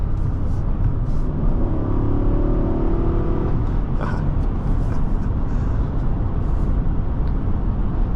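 Nissan Armada Platinum's V8 accelerating under load, heard from inside the cabin, a loud, steady low rumble that swells as the engine climbs, blended with road and wind noise.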